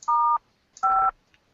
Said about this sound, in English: sorry about the beeping